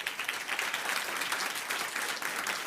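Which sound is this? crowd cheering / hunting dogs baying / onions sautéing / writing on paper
crowd cheering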